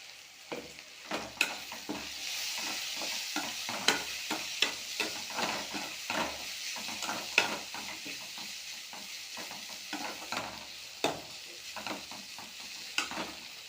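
Ingredients for rava kichadi sauté with a soft sizzle in a pan while a utensil stirs and scrapes in irregular strokes, quiet and close.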